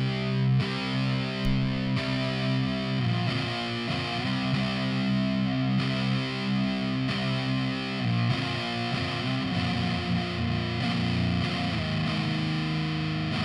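Electric guitar played through an amp into a speaker cabinet, with sustained chords and notes ringing steadily and fairly loud throughout, a slightly driven edge on the tone, and no voices.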